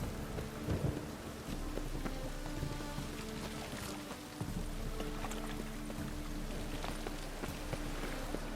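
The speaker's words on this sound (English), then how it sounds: "Rain. The one thing that's been pounding." Steady heavy rain pours in the video game The Witcher 3, with low rumbling thunder rolling underneath throughout, loud and continuous with no talk.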